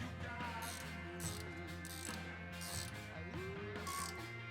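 A ratchet snugs up a suspension bolt on a vehicle getting a leaf pack and rear shock work, giving short bursts of close, crisp clicking in a steady back-and-forth rhythm with no talk.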